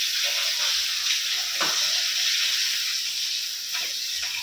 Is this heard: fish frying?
yes